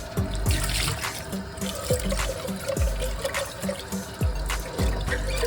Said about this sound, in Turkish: İyice yıkıyorum.